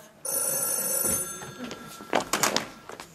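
A telephone bell rings loudly and close for about a second and a half during a French stage play, then fades, followed by clattering handling sounds.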